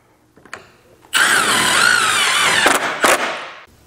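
A power drill whines loudly for about two seconds as it drives a #12 by 1.5-inch screw into an aluminum railing post anchor, its pitch wavering under load, followed by a couple of short clicks.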